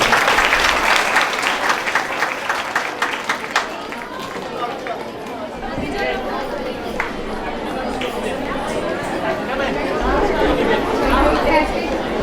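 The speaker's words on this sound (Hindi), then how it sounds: "जरूर तालियों से इनका स्वागत करें।" An audience at a religious jayanti festival warmly applauds to welcome small children, a loud sustained clapping that gradually thins into crowd chatter, shuffling and scattered movement, with people talking in the background.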